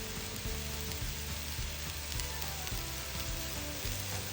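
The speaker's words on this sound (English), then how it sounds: "remove them and put in the mushrooms into the pan. And you're just gonna make sure it's coated in oil." Mushrooms and onions fry in oil in a pan, giving a steady dense sizzle with faint stirring clicks throughout, close and fairly quiet.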